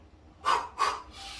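Two quick, sharp exhalations in a row, close and breathy, followed by a softer, longer breath out.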